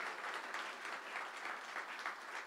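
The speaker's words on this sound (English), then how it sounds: "let's give a big round of applause and a big hand to our band and our spirit squads" Crowd applause at a university football press conference, honoring the band and spirit squads: a sustained, moderately distant wash of many hands clapping, alone without speech.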